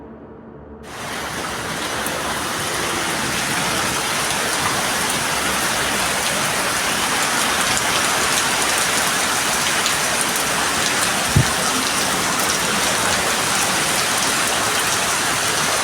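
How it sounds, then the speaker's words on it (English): Heavy rain pours steadily through the night around a home, a dense continuous hiss of drops on surfaces after a quiet first second, with one brief low thump partway through. "a man records the atmospheric ambience of his home during a heavy rainstorm at night"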